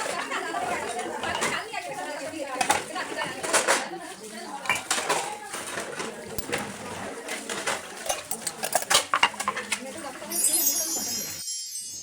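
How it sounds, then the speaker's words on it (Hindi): Many dishes being washed in a village home kitchen, with steady clatter of pots, pans and cutlery knocking together throughout, close and busy, with a few brighter metallic clinks. "सबसे पहले ढेर सारे बर्तन धोएंगे"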